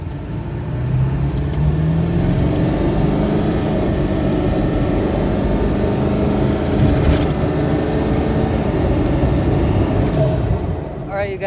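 A 7.3 Powerstroke diesel truck accelerating from a standstill to 45, its engine a steady loud drone that builds and holds through the pull, with a faint cabin rumble beneath.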